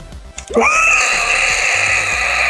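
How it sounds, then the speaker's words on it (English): A single loud, piercing human screech rises sharply and holds at a high pitch, close and intense, with no words spoken. "begin screeching in three, two, one"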